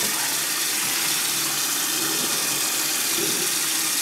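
Steady broadband rush of tap water running into a sink while something is rinsed, continuous and fairly loud, with no voices.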